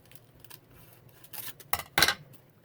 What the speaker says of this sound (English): I'm going to cut a little off the bottom.